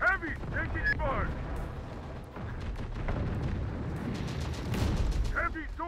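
Sustained gunfire and booming explosions from the combat game Terminator: Dark Fate Defiance rumble continuously, with sharp bursts rising toward the end while voices talk over the fighting.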